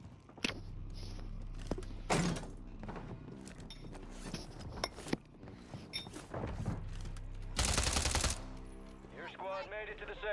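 Video game gunfire cracks out in sharp bursts, with scattered single shots and a sustained loud volley near the end, mixed with thuds and clattering, while voices and electronic game sounds come and go.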